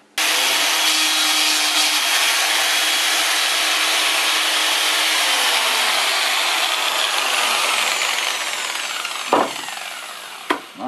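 Disc sander with a finer grit disc working a rustic wooden stool, a loud continuous high-pitched grinding whine that eases off toward the end, then a couple of short knocks.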